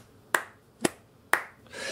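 Three slow, evenly spaced single hand claps, sharp and fairly close, with a faint rising noise at the end.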